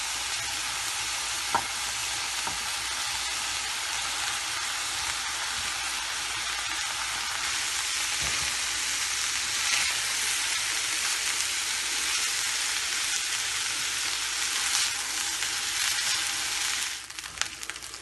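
Rice and vegetables sizzle and crackle in a hot pan while being stir-fried, a continuous close frying hiss with occasional scraping stirs and clinks throughout.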